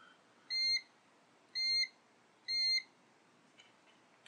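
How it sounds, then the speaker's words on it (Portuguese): Three short, clear electronic beeps from a Zoyi ZT-980L multimeter at an even pace, fairly quiet, followed by a couple of faint ticks in an otherwise silent room. "O bipzinho dele não é muito alto, mas é o suficiente"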